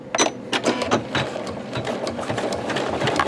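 A Janome embroidery sewing machine stitches with metallic thread, its needle pounding in a fast, uneven mechanical rhythm of close, sharp clatters over a steady motor hum.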